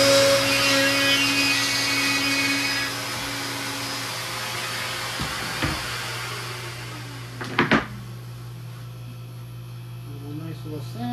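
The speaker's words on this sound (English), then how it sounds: "A little nice little sand. Take any burrs off." A cabinet shelf slide being sanded to take off burrs: a steady motorized whine and hum over a rough scraping texture, close up, then a couple of sharp knocks as it ends.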